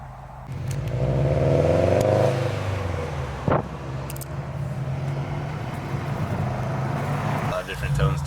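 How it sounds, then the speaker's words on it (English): A nearby car engine revs up in a rising burst and then settles, heard under people chatting close by. "He's trying to rev."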